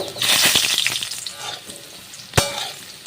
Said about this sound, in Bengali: আর এবার আমি আলুগুলো ভাজা করে নেব